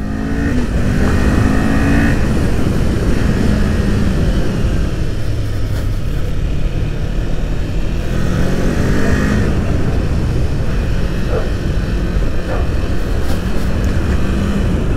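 A Kawasaki Z 400 motorcycle accelerates on a winding hill road. Its engine note climbs repeatedly in pitch, drops back at each gear change, then climbs again, loud and steady throughout under rushing wind noise.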